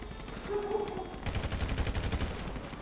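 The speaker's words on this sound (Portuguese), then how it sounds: "Tiroteio, bravo!" Rapid bursts of automatic gunfire from a GTA 5 solo deathmatch, loud and rattling in dense repeated volleys that start partway through, with no talk over them.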